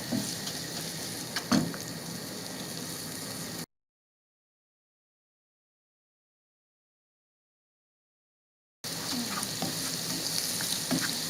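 Okra sizzles steadily in a hot pan for Saidi-style okra with garlic, a dense continuous frying hiss with occasional stirring scrapes, broken by a silent gap partway through.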